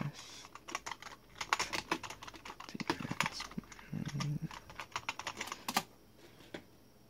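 Keys pressed on a TI-Nspire CX CAS graphing calculator, rapid clicky taps in uneven bursts close up, with a faint voice in the background.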